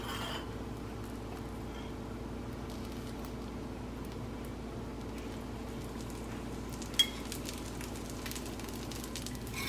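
A dosa cooking on a hot pan after oil is added gives a faint, steady sizzle throughout, with one sharp tap partway through and no talking.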